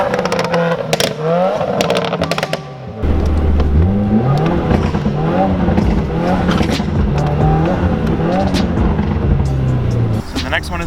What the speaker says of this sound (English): You push in the clutch, and you just keep revving it, and it keeps going